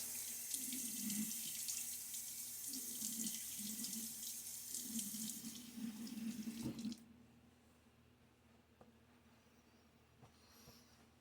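Tap water runs steadily into a sink while a face is wetted before a wet shave, a close, continuous splashing rush that stops abruptly near the end, leaving faint drips in a quiet room.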